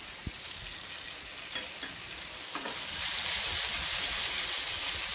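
Paneer tikka fries on a hot tawa with a steady, close sizzle that swells louder partway through, with a few light clicks and scrapes of turning.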